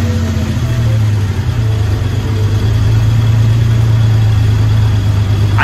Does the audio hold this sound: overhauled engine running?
yes